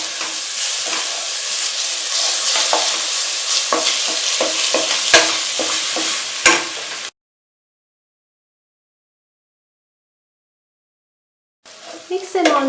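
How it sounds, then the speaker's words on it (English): Coconut ladoo mixture with milk being stirred over a slow flame, a steady scraping and bubbling with sharp clicks of a spoon against the pan, then a long silent gap before the stirring returns briefly. "Mix them all well together in a slow flame till the mixture starts to leave its sides."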